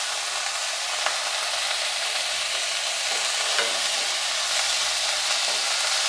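Onions and drumstick leaves sautéing in a pan, a continuous even sizzle with faint occasional stirring taps, close and steady throughout without speech.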